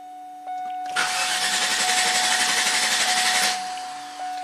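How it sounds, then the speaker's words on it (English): A Cadillac Allante, intermittent after a hot soak, cranks without catching: a loud, rhythmic starter churn runs for about two and a half seconds over a steady electrical whine, then stops, leaving the whine alone. "Crank no start."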